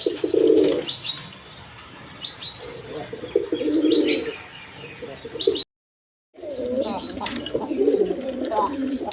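Rajgolla female pigeons and other fancy pigeons at a sale cooing in repeated low throaty phrases, close and fairly loud, with a brief silent gap partway through and chirps in the background.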